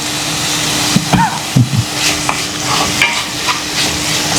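Fish gets stirred in a hot frying pan, a close, steady sizzle with scraping utensil strokes and a few clinks against the pan, without talk.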